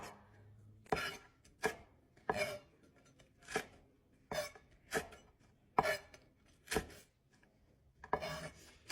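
Knife chopping red chilies lengthwise on a cutting board, about ten distinct sharp thunks in an uneven rhythm, close and fairly loud with quiet gaps between strokes.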